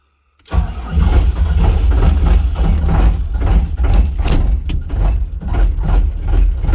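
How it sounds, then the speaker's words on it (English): An old Gehl skid steer starts on a very cold day after preheating, without being plugged in: a brief crank catches into a loud, close diesel rumble that settles into a steady, slightly uneven idle. "Got to get the old Gale skid steer fired up here."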